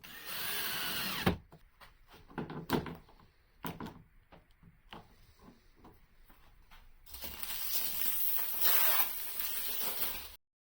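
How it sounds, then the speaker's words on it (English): A power drill whirs in bursts while driving screws into an acrylic basketball backboard, with a long buzzing run at the start and another near the end, separated by quiet clicks and handling sounds. "I started each screw with the drill"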